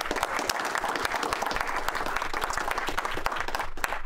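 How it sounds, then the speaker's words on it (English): Round of applause from the audience at a school board meeting, crowded clapping that holds steady for several seconds before thinning near the end, with no talk over it. "Please, let's give a round of applause to Sarah Lodge."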